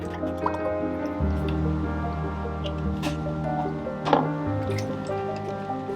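Heavy whipping cream pours into a chilled metal bowl, making a continuous liquid filling sound with rising tones, small drips and a brief splashy squish near the end, fairly close.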